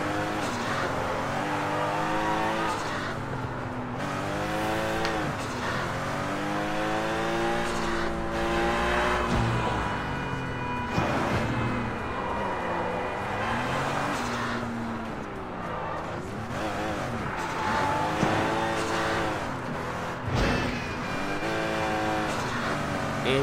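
A car in the Sleeping Dogs video game races along with a whining, shifting engine that rises and falls through the gears, tires squealing and skidding at times, loud and continuous with no speech.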